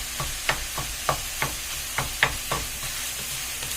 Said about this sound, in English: you're going to know when this chorizo is starting to get fully cooked